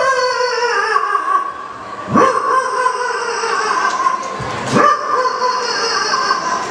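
A person at a school anniversary celebration imitates a barking local country dog, holding long whining howls broken by two sharp, loud yelps, close and clear with no talk over it.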